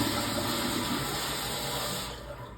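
A toilet flushes with steady rushing, gushing water throughout, close by and fairly loud, beginning to taper off near the end.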